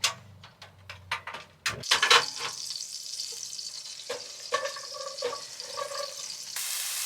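Vegetables cook in a pot on a butane camping stove inside a van, with a soft ongoing sizzle broken by clinks and taps of a utensil stirring, fairly close and moderately quiet.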